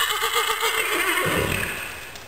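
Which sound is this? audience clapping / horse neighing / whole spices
horse neighing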